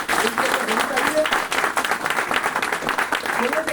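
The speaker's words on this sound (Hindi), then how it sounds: "मैं चाहूंगा एक जोरदार वाली तालियां चाहिए।" Loud applause from an audience at a Vestige marketing plan seminar, dense clapping with uneven swells, accompanied by a voice sounding through the crowd noise.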